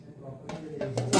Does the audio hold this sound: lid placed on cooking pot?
yes